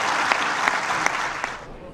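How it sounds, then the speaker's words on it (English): A round of applause fills the UN Security Council chamber after the vote on Resolution 2334. The clapping is dense and steady, with a few sharper claps standing out, and tapers slightly at the end. "to an unusual round of applause, Resolution"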